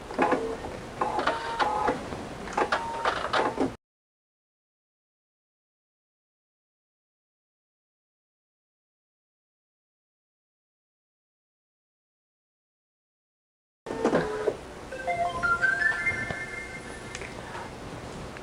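Husqvarna Viking embroidery machine stitching out a design, a steady mechanical whirring in two bursts separated by a long stretch of silence.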